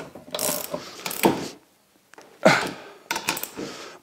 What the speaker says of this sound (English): these coach bolts by tightening this up.